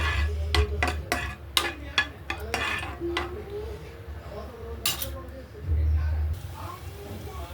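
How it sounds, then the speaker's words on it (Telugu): Cashews and raisins frying in ghee in a pan for semiya sabudana payasam, with sharp spoon clinks and scrapes against the metal pan, a repeated stirring rhythm over a low sizzle. "జీడిపప్పు, కిస్మిస్ బాగా వేయించుకొని"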